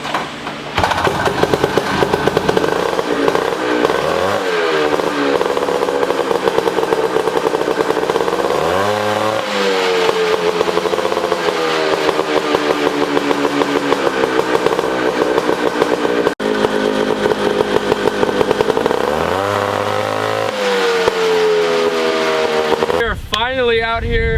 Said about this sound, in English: First pull, let's see how many it takes to actually get it started.